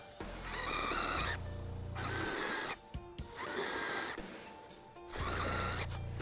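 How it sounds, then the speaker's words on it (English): A power drill whirs into a wood slab in four separate bursts, drilling out pilot holes, each a few seconds long, with short quiet gaps between them. "Then it's just a matter of drilling them out."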